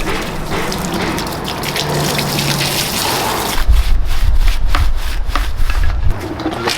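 Dirty car wheels being washed of brake dust and grime: steady spraying and scrubbing water noise, close and fairly loud, with a heavier gushing burst partway through and no talking.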